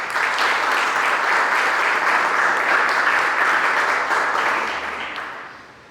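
A church congregation at Vida Nova Church in Mongaguá applauds in a full, sustained wash of clapping that holds steady, then fades away near the end.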